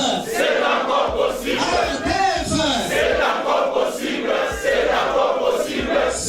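Crowd of party cadres and militants chants political slogans in a rhythmic, repeating pattern at a rally, many voices shouting together with pulsing emphasis throughout.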